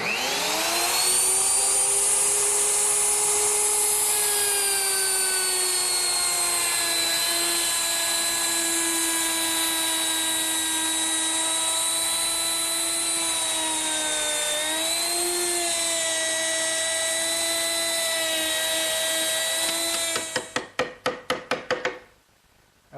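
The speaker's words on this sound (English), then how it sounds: "I use my router with a 3/8 inch rabbeting bit. And I'll just plunge in and go around." A handheld router fitted with a 3/8 inch rabbeting bit screams at high speed while cutting a rabbet along a narrow wooden board, loud and close with a steady whine that dips under load, then spins down with clicking chatter.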